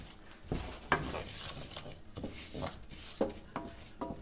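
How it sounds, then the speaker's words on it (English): Long grain rice cooking in melted fat and oil in a pan, with soft scraping stirs and light sizzling, punctuated by irregular clinks of a utensil against the pan. "we're going to cook our rice in our oils, or our fat and oil"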